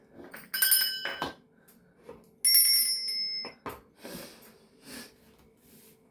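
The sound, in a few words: bells rung to cleanse the space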